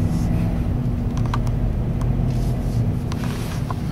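A Ford Raptor SVT pickup rolling through a dip, with a steady, loud low engine rumble and drone that holds throughout and carries faint mechanical clunks over it.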